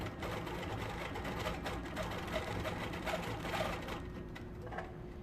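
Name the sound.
18-inch quilting machine stitching a paisley free motion design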